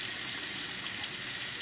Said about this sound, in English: I'm going to go ahead and turn this faucet on.